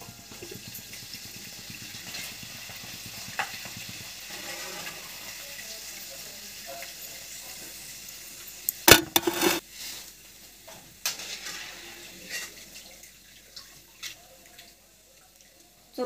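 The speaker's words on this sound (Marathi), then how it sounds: "ते मी मक्याचे पापड तळून घेते" Corn papad fried in hot oil in a kadhai while making puffed-rice chivda: a quiet kitchen hiss, then one sudden loud burst of sizzling midway, followed by scattered softer crackles and bubbling.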